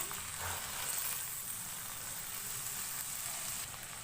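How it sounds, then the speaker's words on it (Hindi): Chicken frying over low heat with garlic and ginger gives a steady, soft sizzle that continues unbroken throughout, with no talking. "चिकन को 2 से 3 मिनट लहसुन अदरक के साथ फ्राई करेंगे।"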